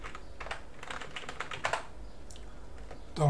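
Rapid clicking of keys on a computer keyboard as a command line is typed, a close, steady patter of keystrokes running for a few seconds with no one speaking.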